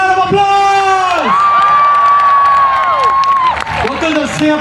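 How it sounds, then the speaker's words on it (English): Crowd at a Labour Day rally in Singapore cheering, shouting and whooping loudly and steadily, with voices calling out over a continuous roar that swells and dips briefly near the end. "let's give Satu Jiwa another round of applause"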